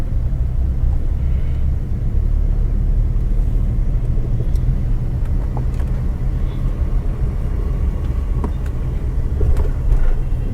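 A car moves slowly during a driving lesson, giving a steady low engine and road rumble with a few faint clicks and knocks.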